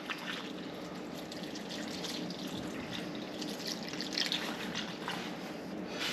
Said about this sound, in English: Let's give that a second to trickle down and let the soil soak it up